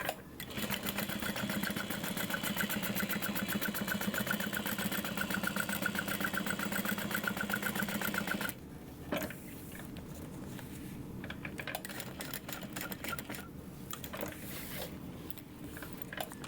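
Sewing machine top stitching a tote bag, a rapid rhythmic mechanical whir that runs steadily for several seconds, then stops and gives way to quieter handling noises and brief short bursts of stitching.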